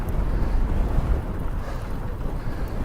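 Gusty wind buffets the microphone outdoors during a rainy bike ride, a continuous loud low rumble that surges and eases without a break, with no voices.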